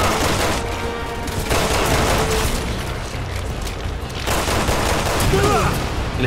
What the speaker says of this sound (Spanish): Le estoy disparando tiros